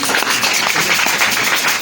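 A church congregation claps and applauds during a sermon, a dense and steady wash of many hands that keeps up evenly for the whole short stretch.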